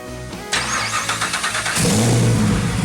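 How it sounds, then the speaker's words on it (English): A 1967 Chevrolet Camaro with an LT4 engine swap and a brand new exhaust starts up close by and revs hard, settling into a loud, deep, throaty rumble. "Brand new exhaust. Let's see what she does."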